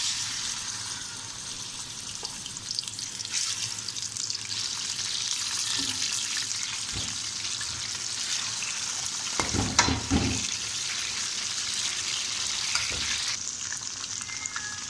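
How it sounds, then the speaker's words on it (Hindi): Chicken frying in a pan with whole spices, ajwain and salt, a continuous loud sizzle with brief stirring and scraping sounds partway through. "किचन को हम फ्राई कर लेंगे"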